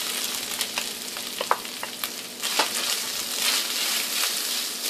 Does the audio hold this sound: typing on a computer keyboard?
no